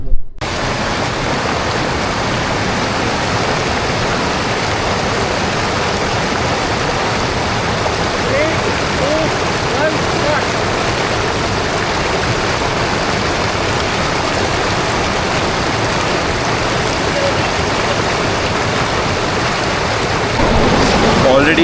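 A river near the Hampta Pass trail rushes loud and close, a dense, steady wash of flowing water from start to end.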